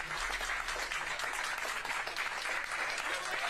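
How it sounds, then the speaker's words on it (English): A crowd clapping for Ron DeSantis at a campaign event ahead of the Iowa caucus, continuous even applause throughout, somewhat distant and moderately quiet. "Everyone's clapping,"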